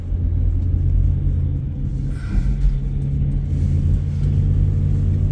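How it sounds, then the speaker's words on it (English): A car with its mufflers and exhaust removed passes near an airport arrival and departure area in Columbus, Ohio, giving a loud, steady low rumble with a brief revving swell midway. "He took off the mufflers,"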